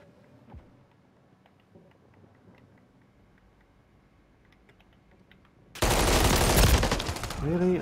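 Automatic gunfire in Call of Duty Modern Warfare III team deathmatch on Crown Raceway bursts out loud and sustained after a quieter stretch of clicking and faint game sounds, rapid shots packed into a dense, continuous volley.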